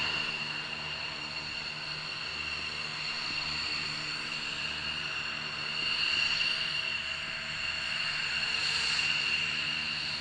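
A KC-10 tanker descending toward Mildenhall, heard as a steady distant jet rumble with a faint high whine that slowly swells and fades, alone without talk.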